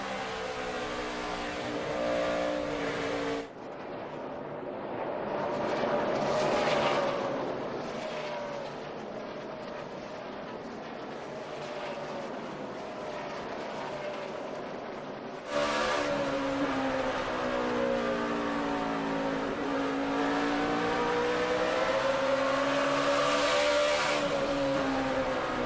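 Engines of 2008 NASCAR stock cars roaring around the track, a loud sustained drone with rising and falling pitch as cars pass. A sharp cut partway through jumps to another pack of cars at full throttle.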